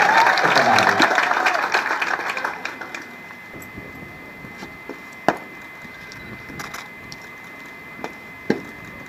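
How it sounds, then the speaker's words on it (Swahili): Crowd applause and cheering at a KDF cadets passing out parade, loud at first and fading away within a few seconds, followed by quiet with a few sharp isolated knocks. "Tumpe makofi na nduru"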